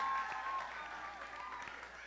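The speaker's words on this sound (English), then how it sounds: "Round of applause for the performers." An audience at a high school world music day event applauds the performers, a brief, fairly soft burst of clapping that holds steady without a clear peak.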